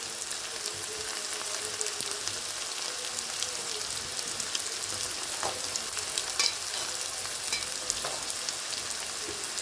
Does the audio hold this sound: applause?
no